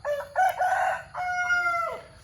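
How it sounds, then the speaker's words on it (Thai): A rooster crows loudly and close, a drawn-out cock-a-doodle-doo in two bursts with no other sounds around it. "ไก่ขันไม่หยุดเลยอะค่ะลูก"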